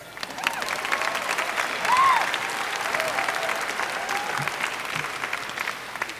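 A crowd applauding at a high school graduation ceremony, steady dense clapping filling a large hall for several seconds, with a few faint whoops and murmured voices mixed in.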